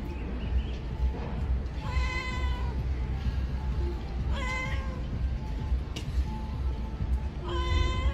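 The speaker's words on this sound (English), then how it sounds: "This cat has a cleaning fetish and detests muddy and dirty pathways." A cat meows three times, loud drawn-out plaintive cries spaced a few seconds apart over a constant low outdoor rumble.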